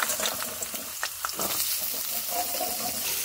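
Potatoes and carrots hit hot oil in a wok, giving a moderate sizzle with a few sharp crackles and splashy pops near the start, then a softer steady hiss.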